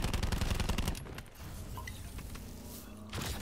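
Automatic gunfire from the M927 rifle in Black Ops 4 zombies mode, a dense burst of loud, rapid shots at the start, then quieter game ambience and mechanical clicks before another burst near the end.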